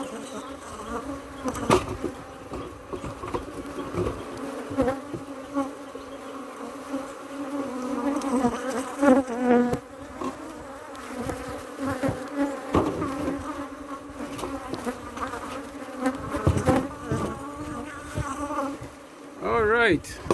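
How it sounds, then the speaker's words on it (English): Dense, steady buzzing of young, newly emerged honeybees inside a hive, the colony's field bees dead, droning continuously and fairly close throughout with shifting intensity. "So all we have here now is just the young bees that just emerge."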